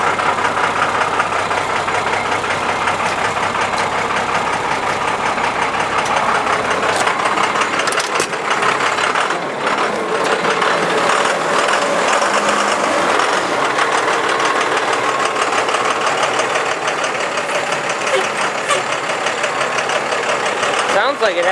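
A 1995 Ford F-series box truck with a 12-valve Cummins diesel idles loudly and steadily just after a cold start, a close, continuous clattering rumble throughout.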